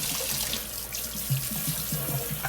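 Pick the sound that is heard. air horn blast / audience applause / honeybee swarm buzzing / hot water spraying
hot water spraying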